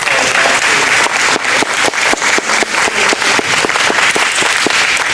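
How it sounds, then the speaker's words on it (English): An audience at a religious lecture applauds steadily, with dense overlapping claps filling the whole stretch at a loud, even level. "let's give our sisters another round of applause"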